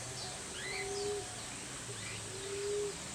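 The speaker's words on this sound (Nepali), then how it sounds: "यतातिर चराहरू छ" Wild birds in a city give faint, distant calls: a few short chirps and two drawn-out cooing notes over a quiet background hum, with no voices.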